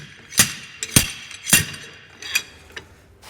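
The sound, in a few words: slide hammer pulling an axle shaft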